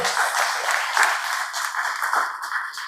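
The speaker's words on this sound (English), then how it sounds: "Please give them a big, inspiring round of applause." An audience at an emancipation cultural event applauds a group of young ladies, a full, steady round of clapping from a room of people that holds at an even level with a slight swell near the middle.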